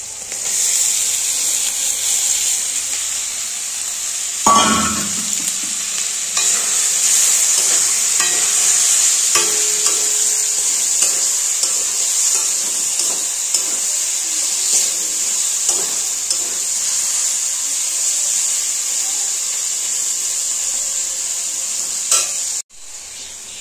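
Amudi fish dropped into hot oil with onion-spice masala, a sharp burst at placement followed by steady loud sizzling and frying, with occasional stirring clinks throughout and no talking.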